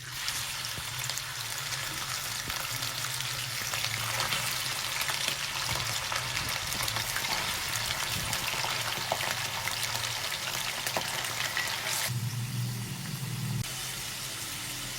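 Steady, dense sizzling of hand-minced chicken frying in a hot pan, continuous and close, with occasional crackles and no voices.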